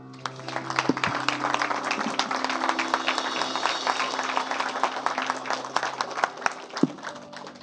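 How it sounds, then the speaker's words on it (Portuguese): Church congregation applauding during a Portuguese-language evangelical service, a steady dense wash of many hands clapping throughout, with a few sharper individual claps standing out near the end. "Um aplauso para o Senhor."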